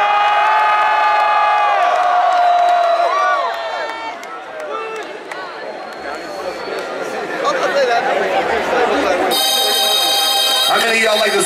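A concert crowd cheers and shouts for a performer at the Paid Dues 2013 festival, a loud sustained roar of many voices that dips briefly in the middle and swells again, with whistles and screams rising toward the end.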